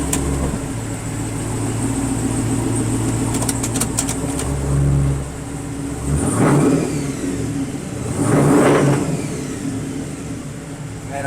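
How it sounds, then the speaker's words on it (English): A supercharged, engine-swapped car revs outside a shop in two rising, roaring bursts over a steady idle, fairly close and loud, with no talking. "Man, I can hear that supercharger"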